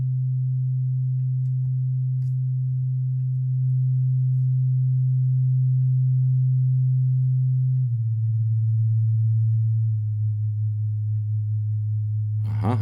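A modulated ambient synth patch built in VCV Rack with plateau reverb drones as a steady low sustained tone, stepping down slightly in pitch midway with a faint wobble, alone and fairly quiet.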